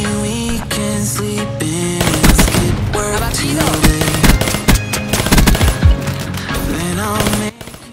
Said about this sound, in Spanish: empezamos con una triple bastante interesante con la M16, que es un arma que es de ráfagas